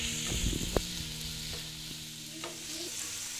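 Onion or spices frying slowly in a pan for an egg spinach curry, with a soft steady sizzle and a few clinks and scrapes of a stirring spoon early on.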